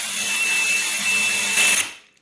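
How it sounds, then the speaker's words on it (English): An arrowhead drill bit grinding into ceramic tile, a steady high-pitched whining drill with a harsh abrasive edge, loud and close, ending as the drill spins down and stops. "Let's quickly see if this drill bit here can still go through the ceramic tile"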